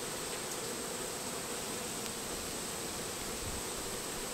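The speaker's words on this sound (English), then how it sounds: "There are a few lost bees there." A few stray honey bees buzz faintly inside a nearly empty hive, a soft, steady hum under a noisy outdoor background with no talking.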